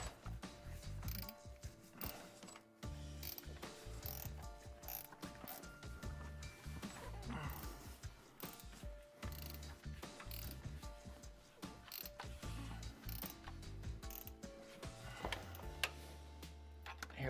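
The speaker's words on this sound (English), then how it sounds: "Let's go back to the gear wrench." Ratcheting gear wrench clicking steadily on a front torque strut mount bolt of a 2010-2019 Ford Explorer, a dense run of close, loud mechanical ticks with brief pauses, alone with no talk.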